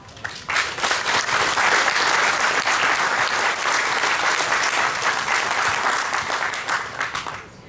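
A full room at a Seguin High School class of 1962 fiftieth reunion bursts into sustained, loud applause, many hands clapping densely and steadily for several seconds before tapering slightly at the end.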